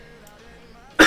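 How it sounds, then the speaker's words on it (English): A single short, sharp cough bursts out at the very end, loud after near-silence. "I'm sorry for the cough, guys."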